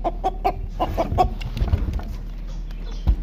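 Several chickens cluck in quick repeated calls as they are released from a cage, a dense run of clucks at first that thins out, with a low thump near the end.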